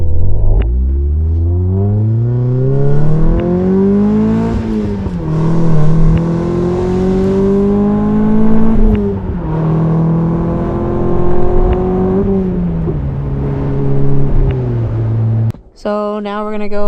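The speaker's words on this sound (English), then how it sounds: "Time for a test drive." A Mazda Miata prepped for a track day revs hard on a test drive. The engine note climbs in repeated surges and settles back, loud and close, with a brief dip near the end.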